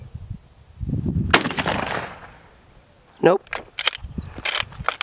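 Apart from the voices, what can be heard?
gunshots fired at a pumpkin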